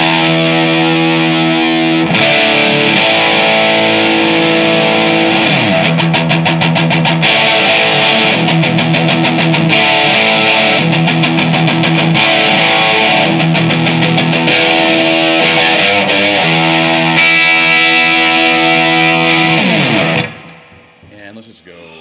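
A heavily overdriven electric guitar through a JHS SuperBolt V2 overdrive pedal, drive set high, plays sustained chords and choppy rhythmic strums, loud and saturated, then cuts off abruptly near the end.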